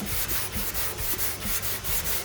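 Steady rhythmic hand sanding of primer on a car body, repeated back-and-forth strokes at an even pace, close and continuous.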